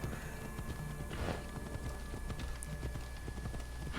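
Horse hooves in the video game Assassin's Creed Odyssey clip-clop in a fast, steady gallop over a constant bed of in-game ambience, close and moderately loud throughout.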